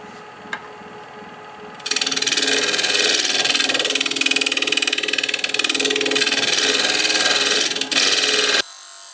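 A freshly sharpened scraper cuts a staghorn sumac bowl on a wood lathe spinning at about 1160 rpm. A loud, harsh, continuous scraping roar starts abruptly after a quiet lead-in and stops sharply near the end.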